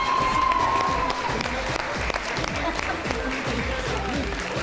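A studio audience claps for a guest arriving on a Pakistani morning TV show. Steady, dense applause fills the whole stretch, with someone speaking over it.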